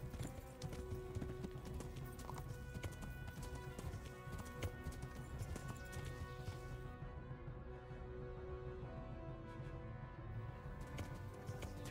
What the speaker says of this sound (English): I'm seeing horses